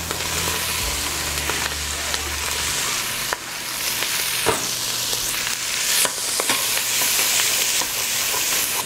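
Peppers and onions sauté in leftover bacon fat at the bottom of a pan, a steady close sizzle with a low rumble early on and scattered clicks and scrapes of stirring throughout.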